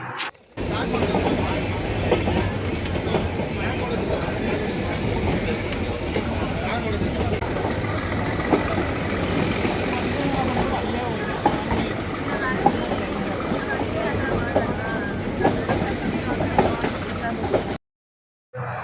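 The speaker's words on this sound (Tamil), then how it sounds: "ட்ரெயினோட சவுண்டை கொஞ்சம் கேளுங்கலாம் எப்படி இருக்குன்னு" Ooty toy train rolling along its mountain rails, a steady, continuous mechanical rattle and clatter of wheels and couplings, loud and close, with faint voices beneath it, cutting off near the end.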